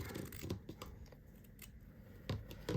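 Scissors snipping through fabric pieces for a no-sew bow, several close crisp cuts in an uneven rhythm with faint rustling between them.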